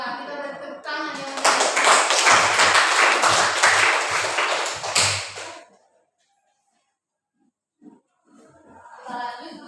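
Classroom applause from students in a vocational school lesson, a burst of dense clapping lasting several seconds before fading out, with a teacher's voice speaking before and after.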